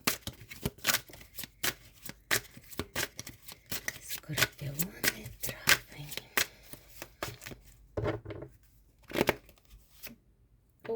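Tarot card deck being shuffled at close range, with crisp, irregular flicks and riffles of cards coming in quick bursts, some louder snaps, and quieter gaps between them.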